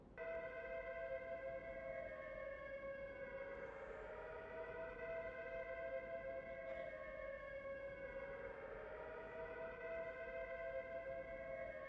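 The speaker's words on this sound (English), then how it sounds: "Have the chaps ready to move as soon as we hear those air raid sirens." Air raid sirens in a World War II prisoner-of-war video game, long rising and falling wails with layered harmonic tones, sustained and fairly distant, sweeping up and down twice.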